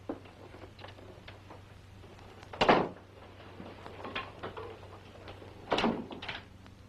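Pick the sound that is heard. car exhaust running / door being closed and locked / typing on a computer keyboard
door being closed and locked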